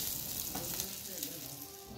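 A tempering for beef and goat nihari sizzles and crackles steadily in the pan as it is stirred, a close, continuous frying hiss with no voices.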